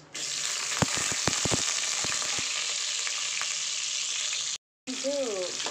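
Onions and curry leaves sizzle steadily in hot oil in a pan for chicken curry, a close continuous crackle punctuated by sharp stirring clicks, with a brief break and a voice speaking near the end.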